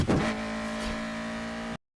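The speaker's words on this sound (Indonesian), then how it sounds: "barulah si Brian tancap gas mengejar si Bustomi" A car accelerates hard in a street race, a loud sustained engine roar that holds steady before cutting off abruptly near the end.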